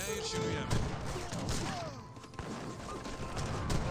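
Musket volleys firing in the Age of Empires 3 video game, with a dense, continuous crackle of shots and thuds throughout a busy battle mix.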